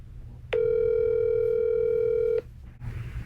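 A steady telephone dial tone after a call disconnects sounds loud and clear for about two seconds, then cuts off abruptly, leaving a faint background hum.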